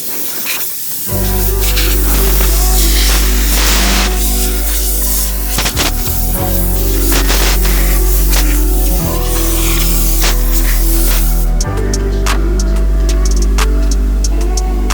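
A powerful blast of compressed air from a blower hisses loudly and continuously close by inside a truck cab, with a low motor hum and brief interruptions as it is aimed around.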